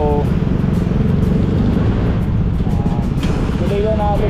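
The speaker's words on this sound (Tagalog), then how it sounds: "Traffic yung C5 ngayon pero parang dito lang yung sa market." Road traffic on C5 at a market stretch in midday congestion, with car and motorcycle engines rumbling steadily nearby throughout, a few horn-like tonal bursts cutting in near the start and end.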